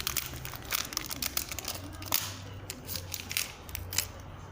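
Someone unwraps a layer of LOL doll packaging, producing crisp crinkles and sharp snapping tears in irregular bursts, close and moderately loud, with no speech.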